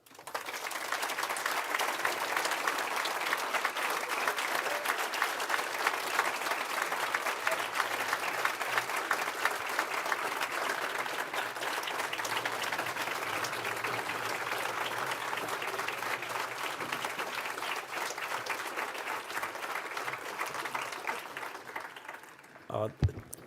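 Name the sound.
audience applause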